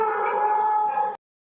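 A dog at a railway station gives a single sustained tonal howl lasting just over a second, close and clear, then cuts off into silence.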